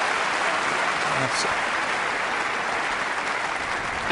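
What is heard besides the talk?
crowd applause at a snooker match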